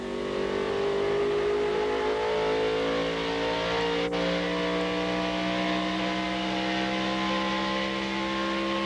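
Stock cars battle for ninth place in a 2000 NASCAR Busch Series race, the Carquest Auto Parts 250, with a loud, steady multi-engine roar whose droning pitch slowly shifts, heard continuously without talk.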